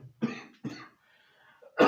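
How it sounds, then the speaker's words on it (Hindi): Two harsh coughs in quick succession, close and loud, followed after a short pause by a third forceful cough. "खांसी भी हो जा रहा है।"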